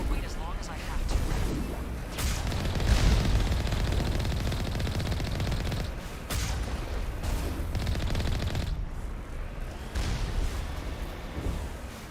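Sustained gunfire and explosions crackle through a Mass Effect firefight, a continuous dense barrage of shots and blasts that barely lets up.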